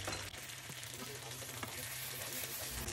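Masala with ginger garlic paste frying in oil, a faint, steady sizzle with small crackles and the occasional stir throughout.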